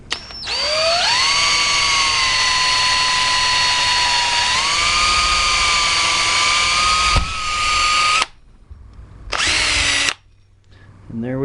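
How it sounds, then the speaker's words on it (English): A power drill with a 3/32 bit whines at high pitch for several seconds while boring through a metal Pro Taper handlebar for a CRF250L, stops, then gives one more short burst. "I'm just starting out with a 3/32 drill bit"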